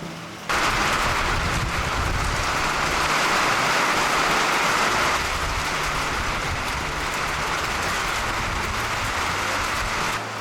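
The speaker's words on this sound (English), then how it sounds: "It's raining again!" Steady, dense rain pours down continuously, a loud broadband hiss that begins abruptly and persists with no voices.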